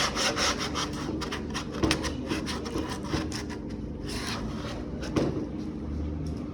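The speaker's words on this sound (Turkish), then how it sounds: "torpido tamirinde en önemli kısımlardan biri zımparadır" Steady back-and-forth rubbing of sandpaper on a BMW 1 Series car dashboard during repair, close and continuous with a few brief knocks.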